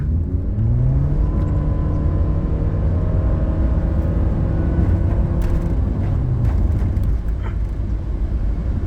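A remapped Honda Jazz running on E20 fuel accelerates hard on a wet road with the air conditioning on, its engine revving loudly and climbing in pitch through several gear changes from close inside the cabin.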